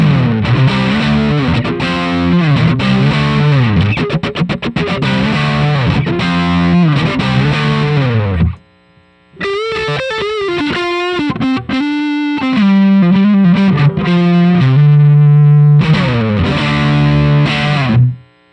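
An electric guitar runs through a distortion pedal, playing loud, dense chords and riffs that stop abruptly twice before resuming, with no talking.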